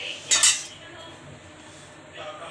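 A spoon drops salt into a bowl of grated bottle gourd and gram flour with one short, bright clink near the start, then faint quiet handling.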